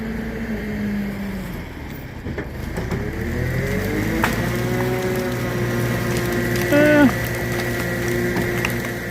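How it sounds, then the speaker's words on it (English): A John Deere skidder fitted with a Gearmatic 19 winch runs steadily with a close mechanical whir and gear clatter, engine drone underneath and a brief higher whine near the end; no one speaks. "That John Deere skidder's got a Gearmatic 19 winch on it."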